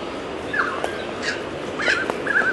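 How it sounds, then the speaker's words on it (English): Currawong, an Australian bird, calling at moderate distance: several short rising and falling whistled notes in uneven bursts over a faint outdoor background, no speech. "Anyway, that's the Currawong."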